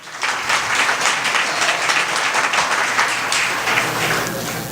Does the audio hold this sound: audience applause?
yes